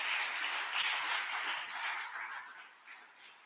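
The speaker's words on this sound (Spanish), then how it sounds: "Denle un aplauso a Dios" A church congregation applauds together, a dense wash of clapping that holds steady and then gradually thins toward the end, with no voices over it.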